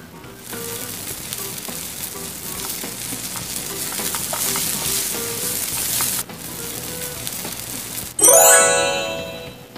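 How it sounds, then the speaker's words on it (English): A mixture is stirred in the Princess Cook Book cooking game, a continuous bright sizzling, scraping swirl at moderate level that cuts off briefly, then ends in a sharp ringing chime. "Stir the mixture."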